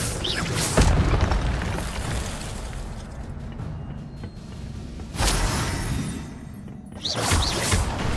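Incendio fire spell cast in the Hogwarts Legacy video game, heard as loud booming bursts with whooshing flame around the first, sixth and seventh seconds over a continuous noisy game background.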